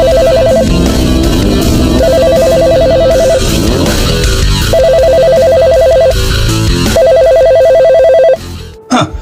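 A phone ringing in an animated film, in repeated electronic trilling bursts with pauses between them, loud over background music and sound effects.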